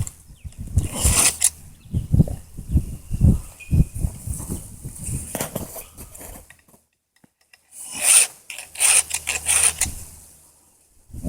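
A hand file rasps back and forth across a chainsaw chain's cutters, making a steady run of close, scratchy strokes, then a pause and another quick burst of filing.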